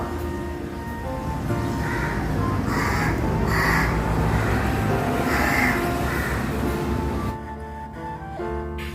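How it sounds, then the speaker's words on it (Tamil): Several crows caw repeatedly in short, harsh bursts over a dense, steady background noise, the calls rising and falling before the noise abruptly drops near the end, just after a bell sounds during a Navaratri puja. "பெல் சவுண்ட் கேட்ட உடனே காக்கா கத்த ஆரம்பிச்சிருச்சு"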